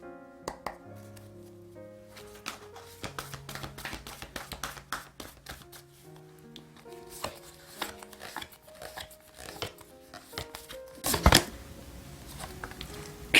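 Tarot cards are handled and shuffled close by with quiet taps, slides and riffles, over faint background music, with a louder burst of shuffling near the end.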